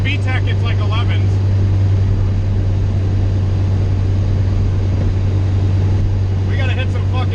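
A Honda B20 VTEC car fitted with a Jackson Racing supercharger drones with a loud, steady low engine hum throughout, with voices talking over it near the start and again at the end.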